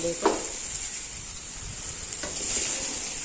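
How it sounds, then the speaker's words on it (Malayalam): Onion, carrot, ginger and green chili sautéing with salt in a pan, a steady hiss of sizzling with a couple of brief stirring scrapes, no talking. "ഇതെല്ലാം കൂടെ നന്നായിട്ടൊന്ന് ഉപ്പൂടെ ചേർത്ത് നമുക്ക് എല്ലാം കൂടെ ഒന്ന് വഴറ്റിയെടുക്കാം"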